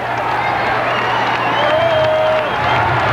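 Broad, steady roar of a capacity stadium crowd at a 1979 NFL football game, a continuous wash of cheering and murmur with a commentator's voice faintly underneath.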